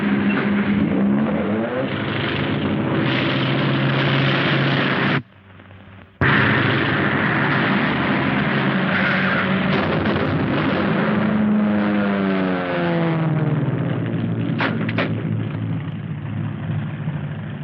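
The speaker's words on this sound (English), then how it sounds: "There's the plane." A loud, steady engine drone of a propeller plane fills the clip, briefly cutting out, then returning with rising and falling pitch as it passes.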